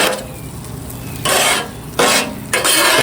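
Eggs being flipped on an Aldi griddle, with several loud scraping spatula strokes against the hot metal surface amid a soft sizzle, close up with no talk.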